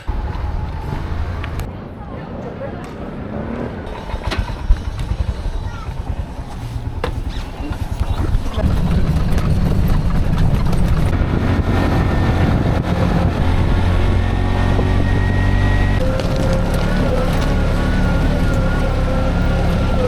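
Motorised rickshaw ride toward Semuc Champey in Guatemala: a loud, rumbling engine grows heavier partway through, with rattling and road noise throughout and occasional voices under the drone.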